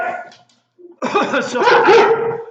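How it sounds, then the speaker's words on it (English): Dogs bark down the street: a short yelp, a brief pause, then a burst of several loud, sharp barks in quick succession. "So there's some dogs that some people got down the street"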